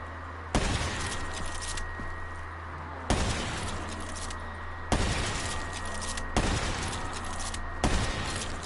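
Close bursts of gunfire in Black Ops 3 Zombies come in four loud volleys, each a rapid run of shots with a sharp onset, separated by brief pauses.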